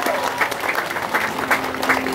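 Audience applause at a church gathering, a steady wash of clapping with swelling bursts, mixed with voices in the crowd.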